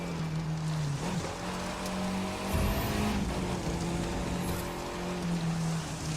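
Monster truck engine driving in the racing video game The Crew 2, a steady low droning motor with shifting pitch and rumbling noise, continuous and fairly loud throughout.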